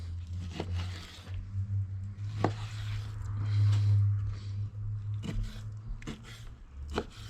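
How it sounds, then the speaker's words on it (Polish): A knife dices a chunk of liver on a board, giving sharp chopping strikes at irregular intervals over a steady low hum of a pot cooking nearby. "mam tu jeszcze kawał takiej wątróbki. Będę kroił to w kostkę."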